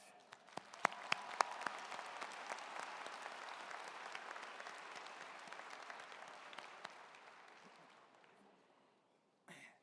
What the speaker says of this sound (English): Please join us in a round of applause to thank all of our staff.